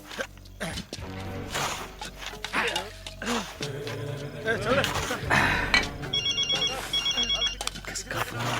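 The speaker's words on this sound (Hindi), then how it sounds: "किसका फोन आ गया?" A telephone rings with repeated electronic trills near the end, while people talk over it and other household sounds mix in.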